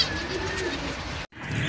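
Pet birds in a small home aviary on a mini farm, including finches and doves, call steadily in a dense overlapping chorus of cooing and chirping that continues throughout, with one brief silent gap.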